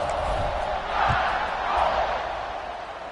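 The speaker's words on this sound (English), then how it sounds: "this crowd is buzzing after that last score" A stadium crowd at a college football game in a video game buzzes in a steady, dense roar, swelling slightly in the middle, loud and continuous.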